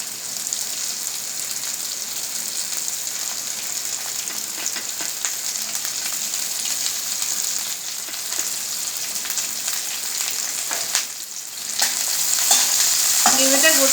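Chopped onion and garlic fry on high flame, a dense, loud hiss of sizzling oil running continuously, briefly dipping near the end before surging back with scraping stirs, and no talking.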